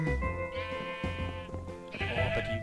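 A Minecraft sheep bleats in a steady, wavering, nasal cry that lasts over two seconds, with a second bleat following, loud and close.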